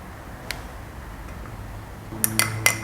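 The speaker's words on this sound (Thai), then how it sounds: "คนให้เข้ากันค่ะ" A spoon stirs hot water and cocoa powder in a glass, first with a few faint ticks over quiet background, then a quick run of sharp, bright clinks against the glass near the end.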